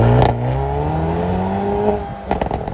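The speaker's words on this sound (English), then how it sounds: "even more fun to hear it crackle as you hit the gas and take off" A 2021 Hyundai Veloster N accelerates with a rising engine note, and a short burst of exhaust crackle and pops comes at the end.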